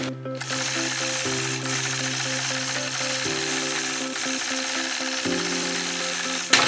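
A longarm quilting machine with a stitch regulator at 13 stitches per inch sews dense matchstick lines, a steady loud mechanical hum and rapid needle chatter whose pitch steps up and down as the stitching speed changes.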